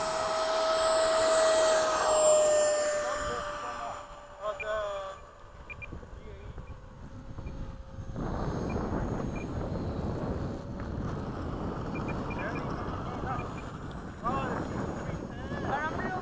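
An F-104 jet takes off at Bayside. A steady high engine whine gives way midway to a broad, loud roar that holds steady, with rushing wind-like noise throughout.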